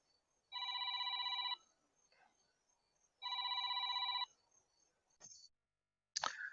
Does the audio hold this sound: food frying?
no